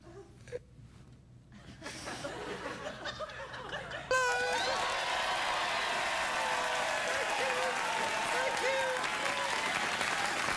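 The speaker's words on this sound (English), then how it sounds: "It's really nice that you've given me such a warm round of applause" A late-night TV studio audience breaks into loud, sustained applause mixed with laughter and cheering. It swells after a quieter start with scattered chatter and talk, then holds as a dense, steady roar.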